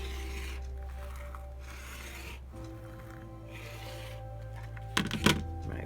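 Trimming the edges of a scrappy blue quilt top with a ruler and cutter: soft scraping and rubbing of fabric under a steady low background hum, ending in a brief, sharper rustle near the end.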